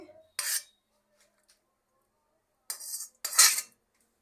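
Metal utensils clink against dishes while cauliflower, potato and paneer curry is served, coming in three short, close bursts with silence between them.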